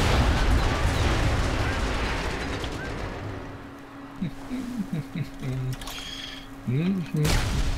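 A loud explosion in the video game Sniper Elite 4 opens with a broad, booming blast that rumbles and fades over several seconds, followed by people talking and a second burst near the end.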